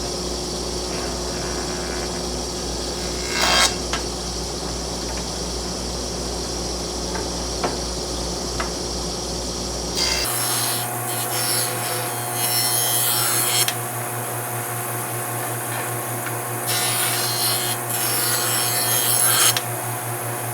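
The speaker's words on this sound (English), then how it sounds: "Listen to this longer walnut board. You'll hear it cut, then you'll hear it not cut, and then you'll hear it cut again." An old Oliver planer cuts a long walnut board with a loud, steady rasping roar over the machine's constant hum, the cutting tone shifting partway through as the feed continues.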